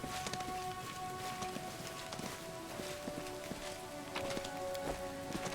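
Steady rain falling on surfaces in a town in the Pathfinder: Wrath of the Righteous role-playing game, a faint, even patter with scattered drop taps and soft clip-clop-like steps, with no talking.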